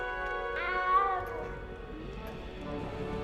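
A single drawn-out cat meow in the Hogwarts Legacy video game, close and clear, sliding in pitch before fading into soft background music and game ambience.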